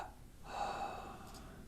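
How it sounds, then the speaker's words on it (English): A person taking a slow, deep inhalation through the nose during a guided meditation, a soft, faint, close breath rising over a second in a quiet room. "Again, inhale."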